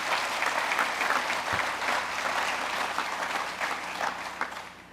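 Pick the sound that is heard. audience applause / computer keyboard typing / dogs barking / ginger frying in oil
audience applause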